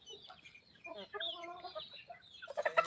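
Young free-range country chickens on a farm cluck and chatter close by, with a busier burst of squawks near the end.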